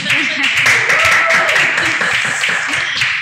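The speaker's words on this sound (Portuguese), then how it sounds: "Mais palmas para ela." Dense, continuous clapping from a podcast studio audience with voices mixed in, loud and close throughout.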